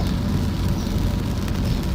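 Steady rain falls while the vehicle sits on a coastal bridge near Bang Saen beach, a continuous broadband hiss and patter with a low rumble underneath, even and unbroken throughout.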